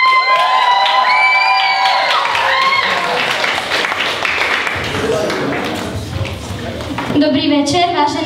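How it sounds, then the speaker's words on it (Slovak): Talent show audience cheers and applauds a finalist, with excited high voices whooping and shouting over loud clapping that thins midway, then a renewed burst of cheers and whistles near the end. "Potlesk pre Petru Lacikovou"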